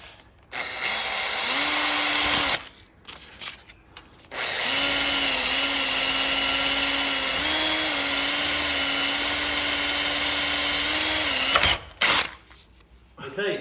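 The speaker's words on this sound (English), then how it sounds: "the bottom left is where I'll be drilling through." A power drill boring holes through BMW i3 trim, whining at a steady pitch in two long runs separated by brief pauses, close and loud with no voice over it.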